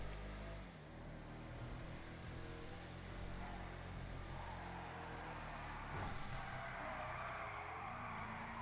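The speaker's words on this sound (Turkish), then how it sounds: "Güzel araba. Yani bir sürüşünü yapalım." A car drives in the video game GTA 5, its engine a steady droning hum under faint whooshing road and wind noise, rising slightly toward the end; no talk.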